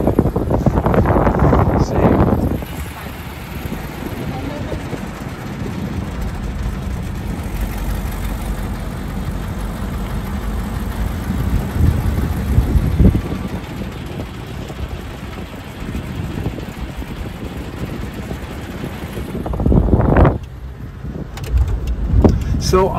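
A 1938 Cadillac Series 75 Town Car driven spiritedly, its steady engine and road rumble filling the cabin with wind noise, while occupants talk over it and brief louder swells mark the start and end.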